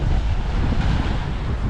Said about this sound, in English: So it's a bit breezy